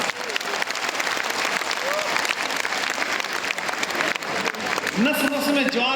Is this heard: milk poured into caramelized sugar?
no